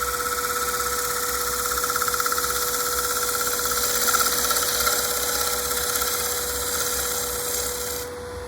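Wood lathe spinning a bowl while a tool cuts the rim, a steady loud motor hum with a constant tone and a continuous scraping cut throughout, no talk.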